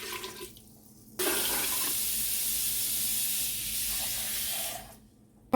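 Water runs from a tap into a cooking pot holding cow foot set to boil, a steady loud rushing hiss that starts abruptly, holds for about four seconds, then fades and cuts off.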